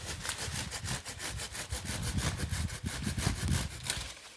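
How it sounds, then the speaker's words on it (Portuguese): Hand saw cutting through a fruit tree branch during pruning, a quiet steady rhythm of rasping back-and-forth strokes, about a dozen in quick succession, heard close with no talk. "sempre ter em mãos um serrote"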